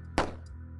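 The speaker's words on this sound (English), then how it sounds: "That was a gunshot." A single sharp gunshot on a campus rings out close and loud, a brief crack followed by a short decaying tail, with nothing else around it.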